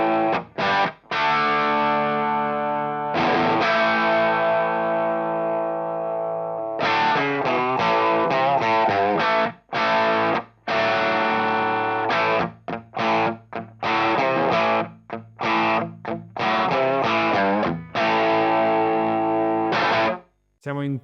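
Heavily distorted electric guitar played through a 100W Blackstar Series One Mk II amp in a Marshall-style voicing, with long sustained chords and choppy riffs, loud and continuous with brief cut-off gaps.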